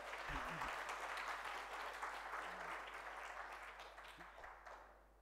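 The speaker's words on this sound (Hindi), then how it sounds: "ताली बड़ी कमजोर है।" An audience at a Ram Katha discourse in Indore gives thin, faint applause that tapers off over a few seconds.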